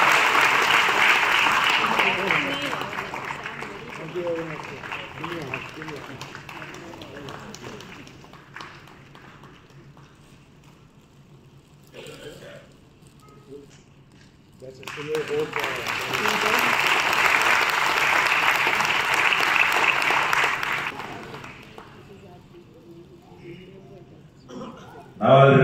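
At a Veterans Day musical evening, an audience breaks into loud, full applause that fades into quieter scattered claps and a speaking voice, then swells into a second long burst before dying away.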